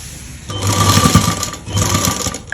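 A sewing machine stitches a seam in two close bursts of steady mechanical whirring, loud and near, with a brief pause between runs and no talk.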